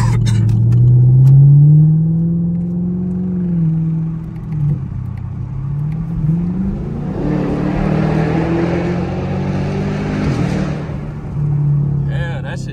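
A Jeep Trackhawk engine drones and rumbles while driving in traffic, a loud, close, low hum that rises and falls, with a voice talking over it at times.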